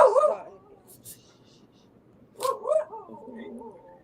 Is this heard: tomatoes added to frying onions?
no